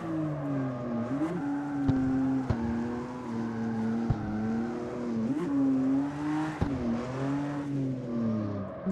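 Sustained engine whine of a Supra during a clutch-kick drift in the CarX Street racing game, played on a steering wheel, with pitch swings and short squealing tire bursts, loud and continuous without talk.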